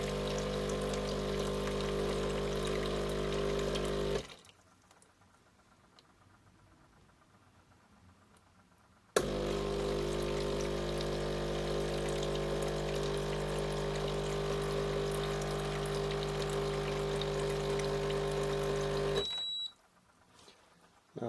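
A Sage Breville Barista Pro espresso machine pumping descaling water out of the group head, a steady loud pump drone with water flow that stops for a few seconds, then resumes and cuts off again near the end.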